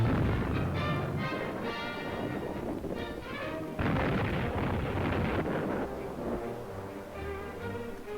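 Coast defense anti-aircraft guns fire in a dense, continuous barrage of booming blasts and rumbling bursts, loud and sustained throughout with no talking.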